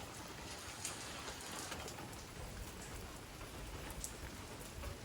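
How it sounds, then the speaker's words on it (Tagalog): Steady rain from a typhoon pours down in a continuous dense hiss, with occasional louder drops spattering close by and no voices. "Sige rag ulan."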